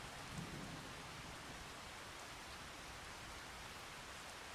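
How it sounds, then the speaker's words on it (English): Steady rain falls in a Farming Simulator 25 farm scene, a dense, even hiss that holds for the whole stretch, with a soft low rumble of distant thunder early on and no talking. "Yep, it's raining."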